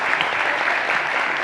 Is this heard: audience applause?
yes